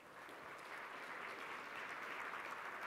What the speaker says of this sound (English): So give yourselves a hands of applause.